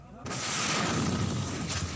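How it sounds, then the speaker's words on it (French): Explosions during urban combat in a city under fire, a sudden loud blast that cuts in and leaves a long, rough roar with a second hit near the end. "des civils se cachent alors que des explosions retentissent"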